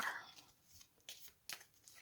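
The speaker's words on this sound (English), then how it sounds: "let's shuffle a little bit more." Quiet, papery riffling of cards being shuffled, with a few soft bursts about half a second apart.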